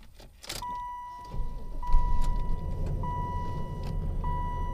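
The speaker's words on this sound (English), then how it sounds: "let's see how it does on a cold start" A family-hauler car fitted with a Corvette engine is cold-started: a steady door chime sounds, then the engine cranks, catches with a low rumble that swells, and settles into a close, even idle while the chime continues.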